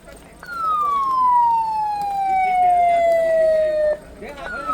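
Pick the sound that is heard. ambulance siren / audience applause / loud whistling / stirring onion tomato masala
ambulance siren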